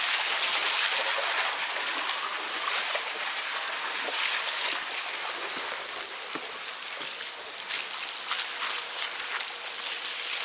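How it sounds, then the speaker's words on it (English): Garden hose water running steadily into a backyard swimming pool, a continuous close hiss and trickle with no talk over it. "So the only water that's coming in is this hose right here."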